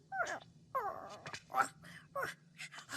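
A dog in a fantasy cooking anime whimpers and whines in several short, high, wavering cries, moderately close, with a faint low hum underneath and no spoken words.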